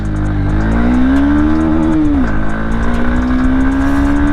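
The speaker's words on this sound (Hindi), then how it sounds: "तो चलिए चलते हैं अब हम इस मोटरसाइकिल को राइड करके देखते हैं।" Honda Hornet 2.0 Repsol Edition motorcycle pulling away in first gear, a loud, close engine drone whose pitch climbs, dips briefly mid-pull, then rises steadily again, alone without talking.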